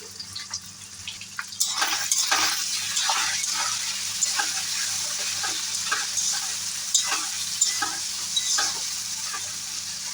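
Boiled potatoes, tomato and green chilli frying in a pan while being stirred, a continuous close sizzle punctuated by regular scraping strokes of a spoon against the pan, with no voices.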